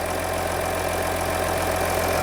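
An Audi Q7 engine idles steadily after a water pump replacement, a close, even low hum with faint periodic ticking and no talk.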